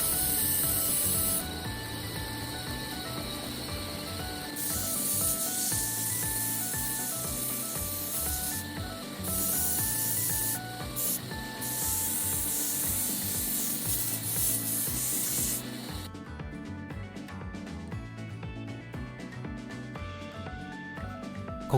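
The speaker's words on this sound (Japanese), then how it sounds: "細く切ったベルトで角を取りながら形が崩れないように磨いていきます。" A narrow strip of abrasive belt sanding the corners of an AEB-L steel kitchen knife, a steady, loud rubbing hiss with short breaks over background music, stopping near the end while the music continues.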